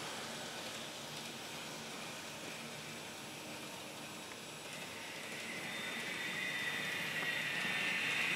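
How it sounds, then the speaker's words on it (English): Kato N gauge SD70 model freight locomotive running with DCC sound, giving a steady, broadband hissing diesel rumble with a thin whine that swells louder toward the end; no talk. "that's the sound in the yellow freight engine, the SD70"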